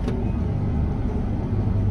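A combine harvester's separator and rotor spin up and run, a steady loud low mechanical rumble and drone close by, holding even throughout with no talk.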